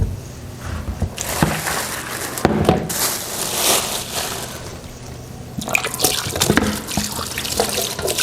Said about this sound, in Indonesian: Jadi dicuci dengan air mengalir